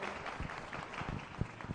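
Audience applause at a Ramayana quiz competition event, a steady wash of many hands clapping together for the whole stretch at moderate level, with scattered sharper claps standing out.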